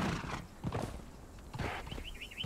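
Horse galloping in the video game Conan Exiles, a quick run of hoof clip-clops with a whinny-like tone near the end, fairly close over faint background game sound.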